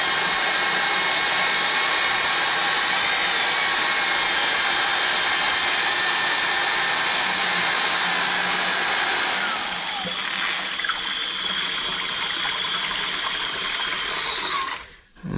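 About 50 pounds of sugar syrup for feeding bees is mixed with a loud, steady motorized whir and churning water that runs for about fifteen seconds, dips slightly partway through, then cuts off at the end.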